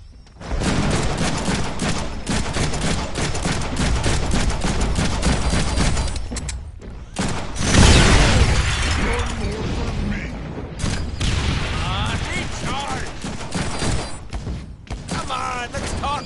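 Rapid gunfire bursts in a Deadpool video game, loud and continuous with dense repeated shots and a heavy blast near the middle, over game music and effects, with voices talking throughout.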